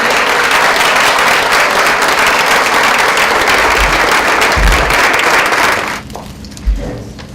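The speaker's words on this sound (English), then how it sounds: "You may now give a round of applause for Induction." An audience at a high school National Art Honor Society induction ceremony breaks into steady, loud applause with dense clapping for about six seconds, then it drops away abruptly, leaving a quiet room with a brief knock.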